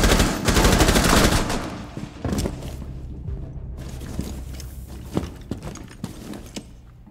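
Rainbow Six Siege gunfire on the Consulate map opens with a loud sustained automatic burst, followed by scattered single shots and thuds at varying distances.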